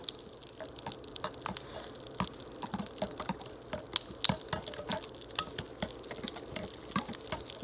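Pop Rocks candy fizzes and crackles as it dissolves in a stirred liquid, a dense stream of tiny sharp pops and snaps close up, faint but continuous over a soft background hiss.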